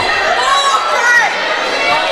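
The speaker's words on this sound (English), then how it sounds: "So the Wyoming East crowd not happy with that call." A Wyoming East basketball crowd murmurs and grumbles in displeasure at a referee's call in a high school gym, a continuous, fairly loud wash of overlapping voices.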